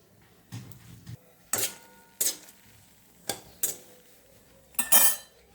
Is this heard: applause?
no